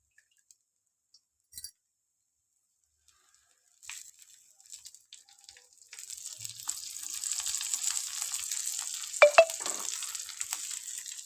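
Dough frying in oil in a pan, a faint hissing sizzle that starts softly and builds to a steady crackle, with a couple of brief sharp clinks near the end.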